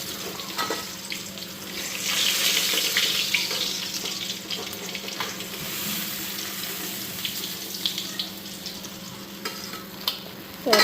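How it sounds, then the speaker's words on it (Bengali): Fish frying in a pan, a steady crackling sizzle close by, with occasional scraping utensil clicks over the bubbling oil. "তো ওইদিকে মাছগুলি দেখো ভাজা হয়ে গেছে গা।"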